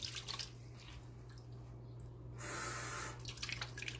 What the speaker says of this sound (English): Now I'm going to get my EnviroCloth wet.